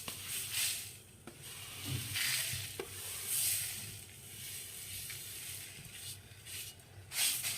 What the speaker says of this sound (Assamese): মছলাৰ কেৰাহীটো বহুৱাই দিওঁ গোটেইবোৰ একেলগে লগাই লৈ অলপকৈ ভাজি লওঁ